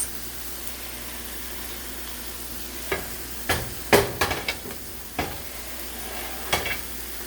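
Brussels sprouts and mushrooms cook in a covered pan with a soft, steady sizzle underneath, punctuated by several sharp clinks and knocks of stirring and lid handling.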